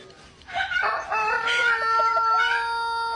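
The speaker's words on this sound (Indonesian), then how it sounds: "Ayam kalau berkokok matanya ditutup." A rooster crows loudly and close by, one long drawn-out call with a strained, wavering tone.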